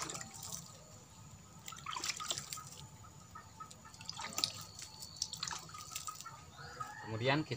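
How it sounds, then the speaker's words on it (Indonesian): Liquid fertilizer mix splashes and trickles as it is poured over a compost heap, a steady wet dribbling with scattered drips under a faint background hum. "Nah kita siramkan seperti ini."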